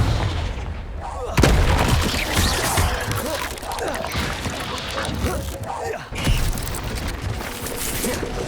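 Blasting-spell explosions from the Confringo curse in the Hogwarts Legacy game, loud booming bursts at about 1.4 and 6.2 seconds over a dense, continuous wash of combat noise, with spoken spell incantations woven through.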